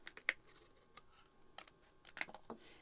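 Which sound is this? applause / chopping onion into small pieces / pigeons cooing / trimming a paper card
trimming a paper card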